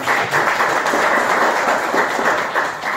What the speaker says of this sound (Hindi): एक बार जोरदार तालियों से आप